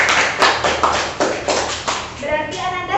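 Classroom applause for a student named Dinda during a school lesson, a dense patter of hand claps running throughout with children's voices mixed in and rising toward the end.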